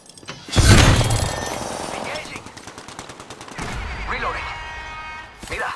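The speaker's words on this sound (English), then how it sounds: "Taking fire." Automatic weapon fire in Apex Legends, a loud close burst of rapid shots followed by a second stuttering volley, with game effects and a voice talking between them.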